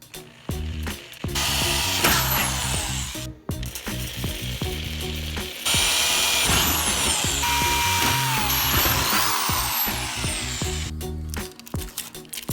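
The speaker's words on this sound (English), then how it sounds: "Again, start by drilling a small hole." A power drill bores a small hole through the steel lid of a Weber Smokey Mountain smoker while a hinge is being fitted, giving a loud, harsh grinding whine in several bursts separated by short pauses.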